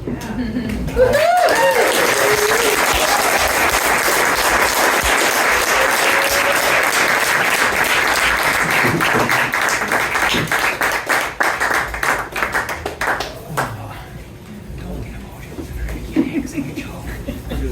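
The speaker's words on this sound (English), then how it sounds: "All right, let's hear it for Phil again." Loud, sustained audience applause with steady clapping that swells in quickly, holds for several seconds, then thins out and fades toward the end.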